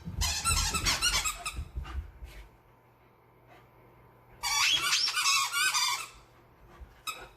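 Bursts of shrill squeaking from a puppy's squeaky toy, a flurry at the start, a quiet pause, then another long squeaky burst and a final short squeak.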